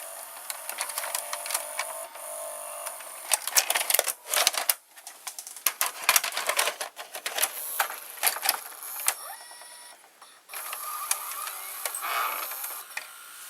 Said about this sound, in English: So now let's eject the cassette.